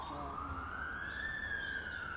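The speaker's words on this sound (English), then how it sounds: "Hear the siren?" Emergency vehicle siren wailing outside a hospital in England, a steady rising tone lasting the whole moment, fairly faint and distant, with faint voices nearby.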